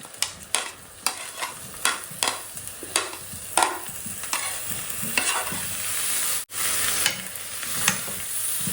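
Spiny gourds fry in a pan with a continuous sizzle, while a spatula stirs them in repeated sharp scrapes, regular at first and then more irregular, close and fairly loud.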